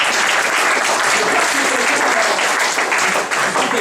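An audience at a performance in a media library applauds, with loud, dense, continuous clapping from many hands close by throughout.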